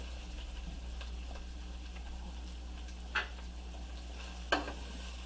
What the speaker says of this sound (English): we're going to sweat our onions out just a tad